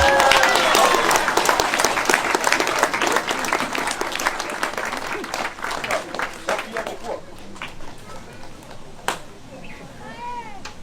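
Crowd at a Samoan fire-making show at the Polynesian Cultural Centre bursts into loud applause and cheering that gradually thins over several seconds, with voices and high-pitched whoops mixed in as it fades.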